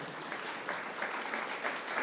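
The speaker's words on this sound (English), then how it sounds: "Yes, you can applaud for that, because that's really cool." Steady applause from a conference audience in Ottawa, a continuous dense patter of many hands at moderate distance, with no talk over it.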